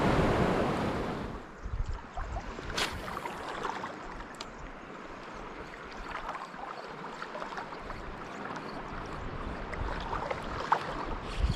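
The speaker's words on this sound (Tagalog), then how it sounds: "Kasi malalaki yung alon." Big ocean waves wash and surge around a small fishing boat in steady broadband roaring surf, with wind buffeting the microphone and occasional splashes, continuous and moderately loud throughout.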